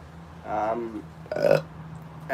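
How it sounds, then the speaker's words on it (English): A couple of low, croaky burps close to the mic, with a short vocal sound starting at the very end. "That was a burp."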